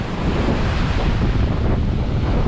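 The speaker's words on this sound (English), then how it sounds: "Yes, I'm sure you can hear the wind" Strong wind buffeting the microphone on a hot beach in Aruba, a loud continuous roar mixed with surf.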